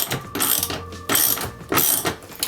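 A hand ratchet driving long lag bolts into wall studs in a tiny house build: repeated bursts of metallic clicking, three or four cranking strokes separated by short pauses, close and clear.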